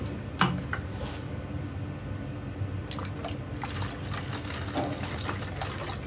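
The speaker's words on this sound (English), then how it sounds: "So let's pour some water in here." Water is poured from a container into another vessel while mixing paint, giving a faint, steady trickle with a few soft splashes and drips over quiet room background.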